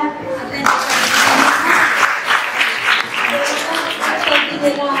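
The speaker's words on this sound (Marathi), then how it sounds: "टाळ्या." A crowd applauds in a continuous, rippling wash of claps, with voices mixed into the noise.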